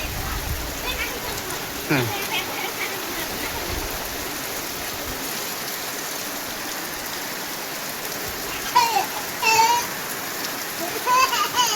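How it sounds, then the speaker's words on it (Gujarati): Steady rain patters down on surfaces in a constant wash, with a few brief voices and clatters rising now and then. "વરસાદ આવે એટલે મજા આવી ગઈ"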